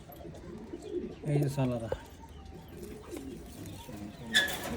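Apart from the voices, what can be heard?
pigeons cooing in a loft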